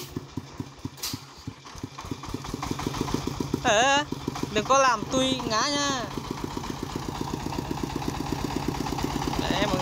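Công nông farm vehicle hauling bamboo tops downhill on a mountain road, its engine chugging in a steady close rhythmic putter throughout, with people talking over it in the middle.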